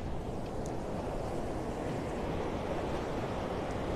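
Steady wash of surf and wind at Cherry Grove Fishing Pier in North Myrtle Beach, South Carolina, a continuous even roar with gusty wind noise on the microphone and no voices.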